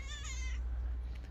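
A strong tomcat gives a single short, clear meow close by, over a steady low background rumble.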